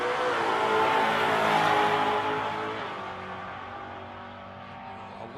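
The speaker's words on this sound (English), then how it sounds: "I love the sound of that car." A supercharged drag racing car roars down the strip at a shootout event, its loud engine note sustained and then gradually fading into the distance.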